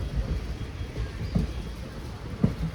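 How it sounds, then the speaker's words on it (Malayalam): Steady rain falls around a railway station on the Nilambur–Shoranur line, a dense, even hiss with a few heavier thumps, with no talk. "മഴയുണ്ട് ഇവിടെ ഇപ്പോഴും."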